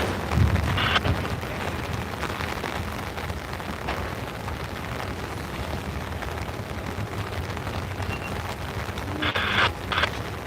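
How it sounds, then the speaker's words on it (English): Heavy rain pours steadily at a railroad museum, a dense continuous hiss of drops drumming on an umbrella and nearby surfaces for the whole stretch, with occasional sharper patters. "As the rain gets heavier, we lower the umbrella there a little bit."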